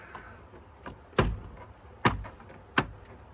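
Three sharp thumps and clicks spaced about a second apart as a BMW 328i E46 rear door panel is knocked and snapped into place, close up with quiet surroundings.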